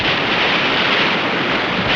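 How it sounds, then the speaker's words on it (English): Big splash as a whale's tail strikes the water beside a boat, a loud, dense wash of rushing surf-like spray that fills the whole moment without pause. "the whale swam away, making a splash so big it soaked the whole boat"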